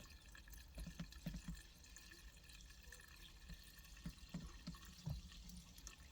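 Quiet, irregular splashes and trickles of water spilling out of a boat engine being winterized, a few soft gurgling bursts against a low steady background.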